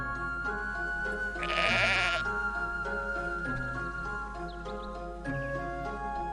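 Sheep bleat in the god game Black & White, a loud wavering cry over a steady musical backdrop, with softer bleats and game sounds around it.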